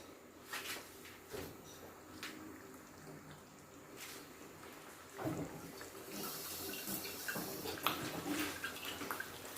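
A tap runs faintly as a tomato sauce jar is rinsed out in a kitchen, with intermittent splashing that becomes a fuller, steadier water rush in the second half, and no voices.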